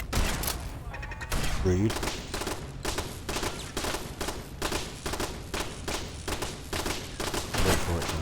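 Gunfire in Fallout 4, a steady run of sharp shots and volleys, loud and close, with a person speaking briefly over it.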